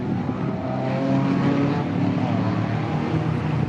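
Race car passing during a Morgan Challenge and MG A sports car race at Silverstone, a loud continuous engine roar holding steady over a few seconds with a slight pitch sweep as it goes by.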